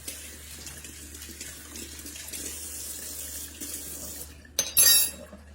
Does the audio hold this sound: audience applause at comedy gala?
no